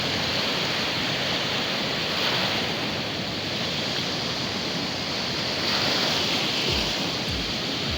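Sea waves surging and crashing against rocks on the shore at Baler, a continuous loud roar of surf with gusts of wind noise over the microphone.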